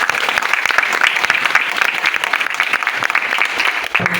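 Loud, brisk applause from a college audience at a memorial debate competition, a dense burst of many hands clapping close by, continuous for several seconds.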